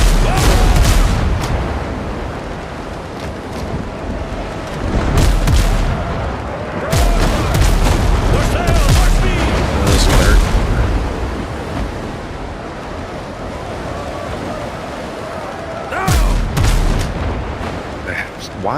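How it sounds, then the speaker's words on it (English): Cannon fire from a ship in the naval video game Windrose comes as repeated heavy booms over a continuous rush of sea and wind, loud and close, with several bursts clustered together. "Why do those back guns fire like it's 4 cannons?"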